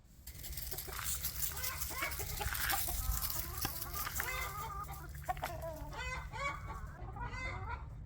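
A rooster separated from his hens clucks and calls repeatedly in short, uneven bursts, fairly close, over a steady low background hum outdoors.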